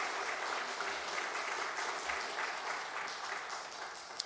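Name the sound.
applause during church service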